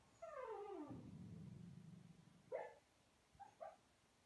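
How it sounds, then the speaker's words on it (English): A sleeping dog whimpers while dreaming under a sofa indoors: a drawn-out, falling whine followed by a low groan, then a few short soft yelps, fairly close and quiet with no talking. "that is my dog having a dream."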